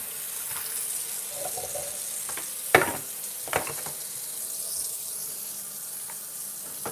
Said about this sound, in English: Okay, now we're gonna wash it.